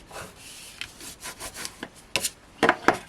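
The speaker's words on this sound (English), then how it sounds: "now I can give this a really good burnish down, and my other pieces too" Papercraft pieces are burnished down by hand, giving a series of close scraping rubs that start soft and get firmer and louder toward the end, with no talking.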